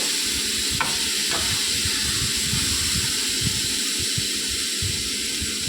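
Chopped tomatoes and brinjal sautéing in a pan, a steady close sizzle and hiss with scraping stirs throughout and no one speaking.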